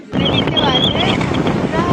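Wind gusting and rain falling on a roadside at night, a loud steady rush that starts abruptly, with a voice speaking over it.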